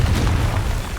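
Confringo explosive spell blast in Hogwarts Legacy, a dense, loud, rumbling boom that fills the whole moment without any voice over it.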